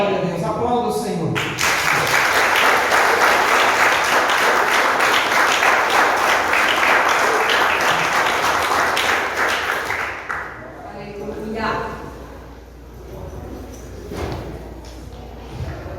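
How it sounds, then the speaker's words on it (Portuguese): A church congregation breaks into loud, dense applause that swells for about nine seconds, then fades into scattered clapping, murmuring voices and room noise. "Aplauda o Senhor."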